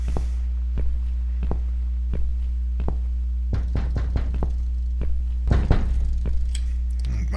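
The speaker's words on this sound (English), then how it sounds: "But now we better answer the door, or else it's just going to keep knocking." Someone knocks on a door in The Cat Lady video game, slow single raps at first then quicker clustered knocks, fairly close over a steady low electrical hum.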